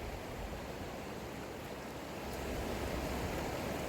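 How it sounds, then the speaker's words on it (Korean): Continuous rushing water noise, a steady broadband wash like a stream flowing nearby, with no voices. "지금은 흐르는 물소리 들으면서"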